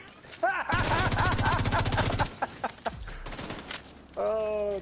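Mortar blasts and rapid gunfire in the video game The Division 2, set in the Dark Zone. A dense burst of automatic shots is followed by scattered impacts and a final loud volley, with voices talking over the combat.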